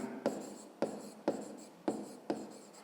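A pen writes numbers on paper during a fifth-grade maths exercise, five distinct scratchy strokes spaced at a steady rhythm, close and fairly quiet with no talk.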